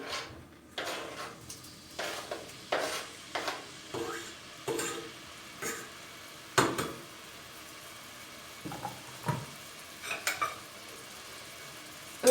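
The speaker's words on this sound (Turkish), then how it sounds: "önce etim biraz pişireceğim, kavuracağım arkadaşlar" Beef browning in a pot for Turkish meat-and-white-bean stew, heard as repeated scraping and clinking of a utensil against the pot at an irregular stir rhythm over a faint sizzle, close and moderately quiet.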